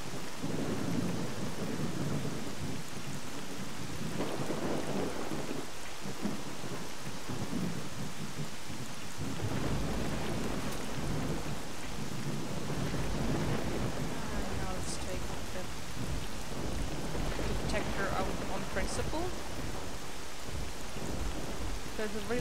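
Video game thunderstorm with steady rain hissing on surfaces and low rolling thunder rumbles, a few sharper cracks later; people talk over it.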